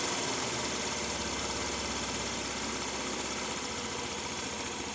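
A United 100cc petrol scooter engine idling at low RPM after a carburetor setting adjustment, a steady close rumbling putter with light vibration, continuous and even without revving or talk.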